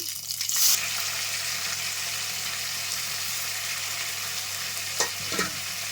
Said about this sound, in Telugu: కొంచెం మెంతికూర వేస్తున్నాను